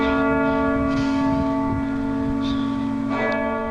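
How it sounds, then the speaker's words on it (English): Bell of an early Gothic-style cathedral tolling, its humming, sustained ring holding steady in the background while faint, muffled noises come and go. "All the while, the cathedral's bell tolls ominously in the background."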